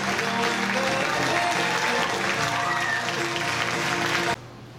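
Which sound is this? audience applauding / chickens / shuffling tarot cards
audience applauding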